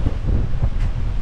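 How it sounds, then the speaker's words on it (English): A wind gust during a hurricane buffets the microphone at a marina lagoon on Great Harbour Cay, a low, rough rumble that swells and eases over about a second. "we've got about 20 knot winds, which is 23 miles per hour. You probably feel it. That gust was probably"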